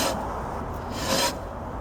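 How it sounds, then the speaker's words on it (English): A worn brake caliper scratching the rotor, giving a close, continuous rasping scrape that swells briefly partway through and carries on without talk. "what is very bad is that the caliper is scratching the rotor"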